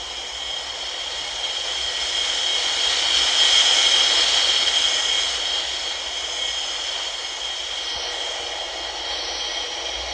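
Airliner engines idling and taxiing in an air traffic control game, a steady jet whine and hum that swells in the middle and then eases off, with no talking.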